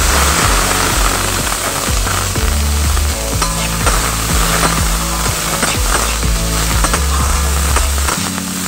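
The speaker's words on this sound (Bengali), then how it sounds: "সমস্ত উপকরণগুলো আমি বাটারে ভালো করে একটু ভেজে নেব।" Chopped onion, spring onion, capsicum, carrot and peas fry in butter in a pan, giving a steady loud sizzle with a spatula stirring and scraping throughout.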